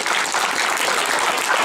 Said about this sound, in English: Before our feedback, we've got to give you our applause.